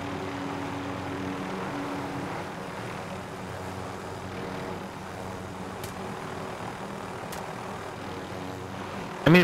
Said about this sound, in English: They're shooting at the other helicopter right there.